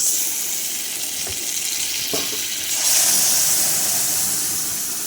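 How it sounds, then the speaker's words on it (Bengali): Boiled lentils (dal) hit a hot pan and break into a steady sizzling hiss that swells louder partway through, with a soft splash as they go in. "এরপর এর মধ্যে ঢেলে দেবো সেই ডালটা"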